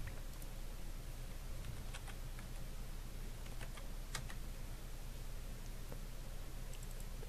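Someone types on a computer keyboard while setting up a Raspberry Pi file server, producing quiet irregular key taps in short bursts over soft background hiss, with no speech.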